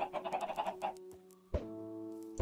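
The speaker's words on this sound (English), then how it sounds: "Look at all those chickens." Chickens in the Minecraft video game cluck in a quick rhythmic run of short calls, followed after a brief pause by another clucking sound, all fairly quiet with no talking.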